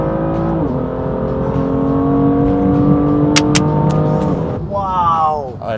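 A BMW M2 Stage 2 tuned to 428 hp revs hard under acceleration, a loud close steady engine drone with rising pitch and a shift near the end, heard from inside the car while people talk over it.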